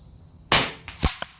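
A .25 calibre FX Avenger bullpup air rifle fires a single sharp, loud shot of a JTS pellet, followed moments later by a fainter smack of the pellet striking a distant target.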